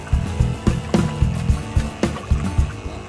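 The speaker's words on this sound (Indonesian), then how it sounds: "Ya, kita harus mengaduk" Black humic acid liquid being stirred for application to durian trees, giving repeated sloshing, splashing strokes in a steady rhythm, close and fairly loud.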